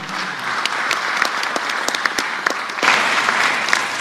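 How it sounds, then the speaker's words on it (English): A crowd claps continuously, dense and steady, swelling a little louder toward the end. "another round of applause to our excellent panel"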